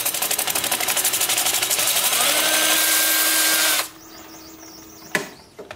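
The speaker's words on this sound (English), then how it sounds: "with my angle drill in reverse. That way, as this comes up, the sanding disc goes down against it." A power drill in reverse whines loudly and steadily as a sanding disc grinds against a turned wooden bowl, then cuts off, leaving quiet with a brief knock near the end.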